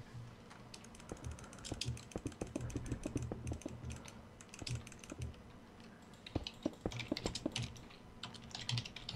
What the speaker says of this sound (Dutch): Dan gaat hij weer iets typen hoor.